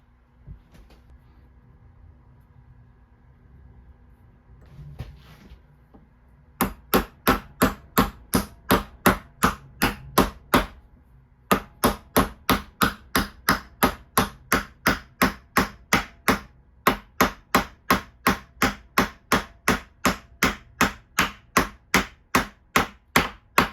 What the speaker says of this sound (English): you can kind of hear how it changed sound as I was hammering on it